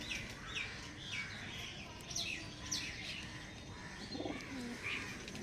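Andhra Kalshira pigeons coo faintly in the background while sharper chirps and tweets repeat at intervals above them.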